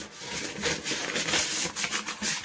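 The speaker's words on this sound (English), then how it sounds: "I'm not rubbing all the parts of the pan with butter." Butter is rubbed over the inside of a cake pan in quick, soft, repeated scraping strokes, heard close with no voices.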